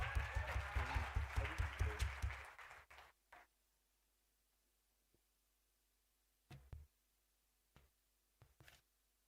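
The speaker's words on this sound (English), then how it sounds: "Please give a warm round of applause to Right Honorable Ara David." Applause for a speaker at a tertiary institution debating challenge, a short burst of rhythmic clapping from a small audience that fades out after about two and a half seconds, followed by near silence broken by a few isolated knocks.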